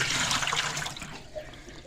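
Water pours and gushes into a washing machine rigged up as a homemade fix, a steady rushing splash close by that eases off toward the end, with no talking.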